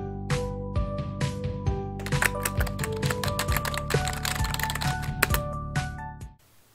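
Fingers tapping on a computer keyboard in rapid, irregular keystrokes with a few heavier clacks, close and clear with no talking, stopping abruptly near the end.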